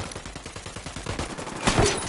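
Rapid bursts of automatic gunfire in a console shooter firefight against cartel forces, a quick rhythmic volley of close, punchy shots ending in a louder blast.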